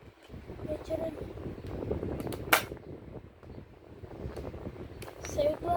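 An airsoft gun fires once with a sharp, close snap in the middle, surrounded by gusty wind noise on the microphone and people talking nearby.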